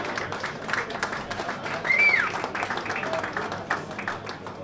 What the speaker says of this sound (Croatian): molim se veliki aplauz za Želimira Babogreca.